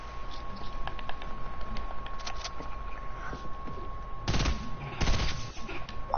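Bursts of video game gunfire in a shooter match with pistols and sniping: a scattering of faint, distant shots, then two louder clustered volleys near the end, with quiet background noise between them and no talk.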